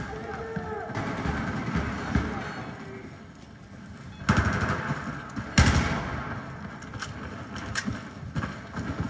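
Assault rifle fire in the video game Battlefield 4, bursts of automatic gunshots and louder single blasts over a constant rumbling game soundscape, with someone speaking throughout.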